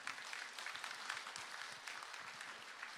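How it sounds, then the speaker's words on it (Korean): An audience at a residents' briefing on an apartment reconstruction project claps together, a dense, even patter of many hands that holds steady throughout, quiet and somewhat distant. "지금까지 수고해주신 분들한테 박수 좀 부탁 좀 드리겠습니다"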